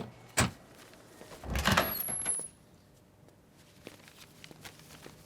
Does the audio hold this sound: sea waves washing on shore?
no